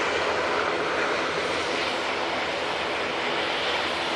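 A Ryanair airliner departing Manchester Airport for Seville gives a loud, continuous broadband engine roar that stays steady and close for the whole stretch, with no voices.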